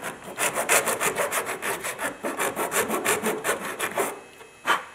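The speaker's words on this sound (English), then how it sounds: "you can see a couple strokes with the round file and it's coming right out" A round file rasping out the open end hole of a motorcycle handlebar, heard as a steady run of about twenty quick, even back-and-forth strokes up close, with one louder scrape near the end.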